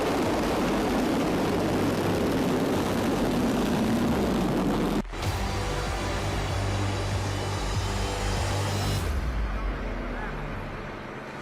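A military command aircraft drones steadily overhead with a broad, loud engine roar, briefly cut off at one point before resuming and gradually fading toward the end.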